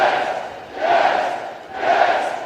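A crowd cheering sound effect plays on a stream, swelling and falling in two broad waves of roaring voices, steady and fairly loud.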